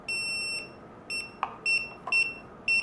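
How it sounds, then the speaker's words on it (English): A Hubsan Zino drone controller gives a series of high, thin beeps, some long and some short, in a quiet room. "And it's beeping"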